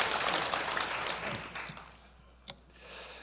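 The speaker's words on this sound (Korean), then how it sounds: "한 번만 더 박수 보내주면서 수고했어요" Congregation applause for the choir at an Easter Sunday church service, a broad wash of clapping that fades over a few seconds before a brief pause and a quieter tail.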